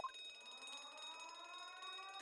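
A ship's alarm in The Great Ace Attorney video game blares as a steady, faint, buzzing electronic tone held for a couple of seconds.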